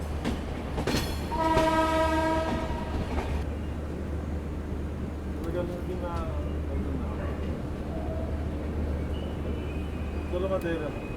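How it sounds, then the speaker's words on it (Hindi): Amritsar Shatabdi train pulling into Jalandhar City station, with a loud horn blast near the start over a steady low rumble of rolling carriages, plus faint squeals and announcements or voices in the background. "और इसी के साथ हमारा अराइवल भी हो रहा है जालंधर सिटी स्टेशन पर।"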